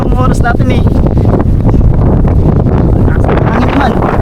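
Strong wind on a small island buffets the microphone with a continuous loud roar and gusty rumble throughout.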